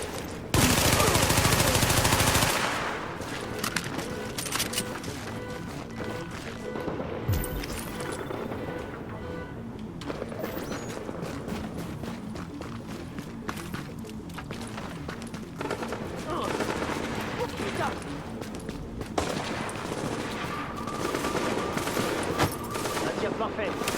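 Gunfire from The Division on Xbox One comes in dense bursts and automatic volleys, loud at the start and then rattling on through the fight, with voices speaking over the shooting.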